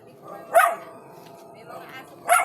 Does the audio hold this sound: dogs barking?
yes